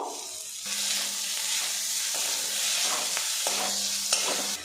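Chopped tomato frying in a pan while being stirred, a continuous close sizzle broken by repeated scraping strokes of the spoon, with a faint hum beneath and no talking.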